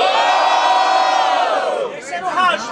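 A crowd at a student rap battle in Guarulhos roars and shouts loudly and continuously, a dense, close wall of cheering voices that dips briefly near the end before surging again.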